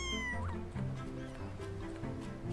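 A kitten in the video game Mika and the Witch's Mountain gives a clear meow, followed by softer mewing over background game music.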